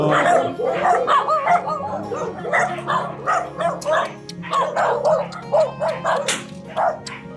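Small dog yipping and barking in repeated short bursts close by, over steady background hum with people talking nearby.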